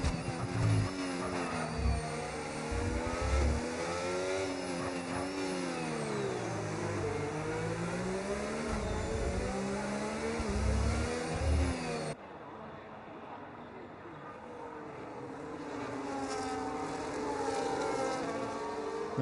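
F1 race cars in the video game F1 Power Grid at Mexico whine through a final corner onto a straight, engine notes rising and falling as they rev, loud and continuous, then quieter after an abrupt cut.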